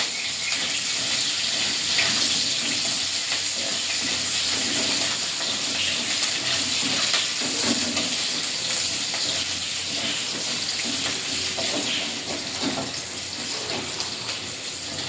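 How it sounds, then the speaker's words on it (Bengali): Onions fry in oil with panch phoron in a kadai for village-style kundri chachchari, a steady, dense hiss and crackle running unbroken at close range with no talk. "পেঁয়াজটা ভাজা ভাজা করে নেবো"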